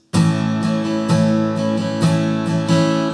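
An acoustic guitar strums open-position chords for a song, with steady bright strokes every half second, close and clear with no voices.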